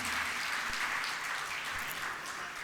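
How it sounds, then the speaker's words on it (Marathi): An audience at a school annual social gathering claps for a child called to the front, a dense, steady burst of applause filling the room for a few seconds. "जोरदार टाळ्या होऊ देत विहानसाठी"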